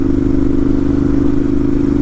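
A 2012 Ducati 796 Monster engine lugging in a high gear below 3,000 RPM, a loud, steady low-pitched throbbing drone with a rapid pulsing beat, close and without talk.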